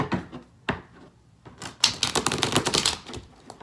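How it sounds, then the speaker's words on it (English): A deck of tarot cards given a quick riffle, a couple of sharp snaps followed by a dense rapid rattle of cards, close and fairly clear, with no talking. "Quick little shuffle that y'all can see."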